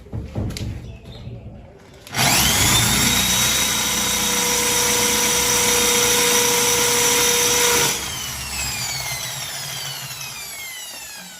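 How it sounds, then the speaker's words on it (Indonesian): An electric drill bores a hole in an old carved wooden door, starting abruptly after a few faint clatters, whirring loud and steady for about six seconds, then winding down. "gunakan bor listrik seperti ini untuk melubangi seukuran dengan lubang"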